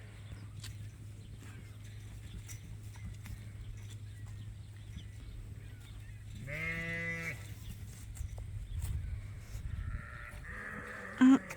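A single drawn-out sheep bleat rises midway through a quiet outdoor stretch on a working sheep farm, followed by faint rustling and a brief sharp knock at the end.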